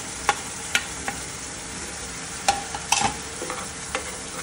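Onion-garlic masala with kasuri methi being stirred in a pan for dhaba-style palak paneer, a soft steady sizzle broken by a few sharp spoon scrapes and clicks against the metal, close by with no talking.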